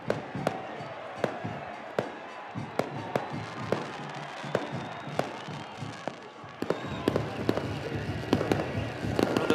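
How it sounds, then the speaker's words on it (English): Pyrotechnics go off at a soccer stadium during a Concacaf Central American Cup match, with sharp bangs repeating irregularly over a steady crowd roar and talk. "Pyrotechnics continue here."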